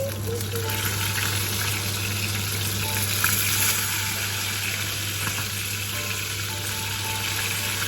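Fish sizzles and spatters in hot oil in a pan, a dense continuous frying hiss with occasional pops and a steady low hum underneath, no talking.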